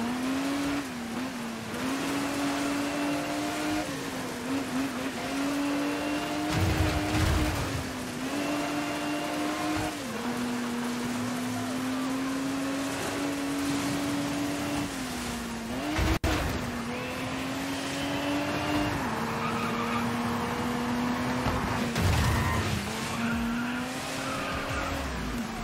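Race car engine in the video game DiRT 5, droning and revving steadily with shifting pitch while tires skid and scrape in brief bursts, loud and continuous with no talk.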